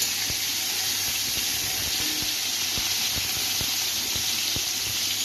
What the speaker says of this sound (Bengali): নুন হলুদ মাখিয়ে পটলগুলিকে আগে একটু ভেজে নিচ্ছি